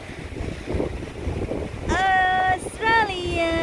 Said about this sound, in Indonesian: Sedikit windy di sini, angin.